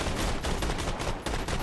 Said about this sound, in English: That gun is so inaccurate, but it's so powerful